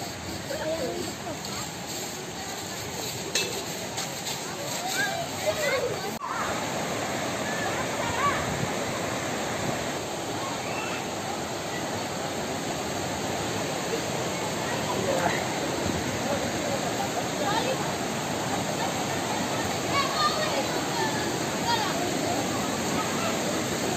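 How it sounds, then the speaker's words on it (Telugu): Waterfalls on the Penna river near the Pennahobilam temple pour in a dense, unbroken roar of rushing water, with voices mixed faintly into the steady wash. "ఇప్పుడు వాటర్ ఫాల్స్ దగ్గరికి వెళ్దాం."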